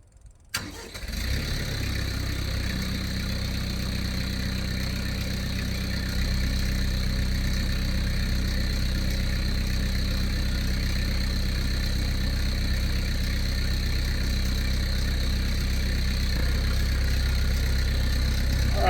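The diesel engine of a TYM 5520c tractor cranks and catches just after a fuel filter change, then settles into a steady, close, rumbling idle that carries on alone.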